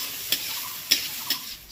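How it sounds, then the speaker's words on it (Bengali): Onion frying slowly in oil in a pan, a soft continuous sizzle broken by three light ticking scrapes of a spatula, close and quiet, with no voices. "এদিকে পেঁয়াজটা ভাজা হচ্ছে, আস্তে আস্তে ভাজা হোক"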